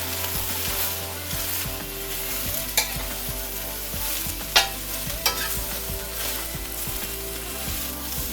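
Yellow squash stir-frying in oil in a pan, a steady loud sizzle with occasional scraping stirs and a few sharper utensil knocks, close up and continuous.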